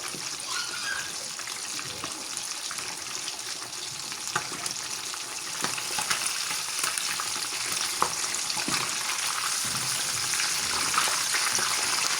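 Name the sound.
chicken pieces frying in oil, turned on both sides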